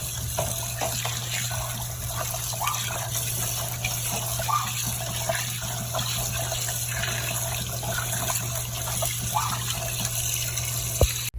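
A large pork leg, over a kilo, is rinsed under a running tap, with a steady wash of flowing water and faint handling sounds continuing throughout, close and fairly loud, with no talking.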